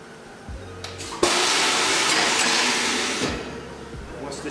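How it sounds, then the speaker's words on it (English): A vacuum sole press presses a New Balance shoe, starting with a sudden loud rush of air as the black bladder pulls down, holding a broad hissing roar for about two seconds, then tapering off among mechanical clicks. "the black bladder is going to come down around the shoe and press it under a vacuum"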